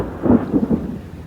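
Thunder rolling during a storm at a ranch while storm chasing, a low rumble with a few swelling pulses over about a second, fairly near and heard alone without talk.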